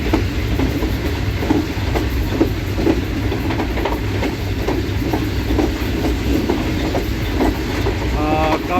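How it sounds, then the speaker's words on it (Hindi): A train rolls past the platforms of Chichawatni station with continuous rumble and repeated clickety-clack from the wheels, close and steady, with a faint squeal near the end. "चीचावती रेलवे स्टेशन के प्लेटफार्म से गुजर रहे हैं हम।"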